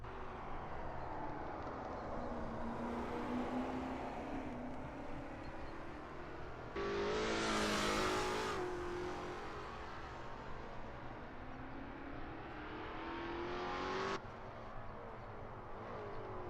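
A Lola T70 MkII Spyder race car's engine drones and swells through the gears on the Riverside short track in a racing game, fairly quiet, with a brief louder burst of revving midway.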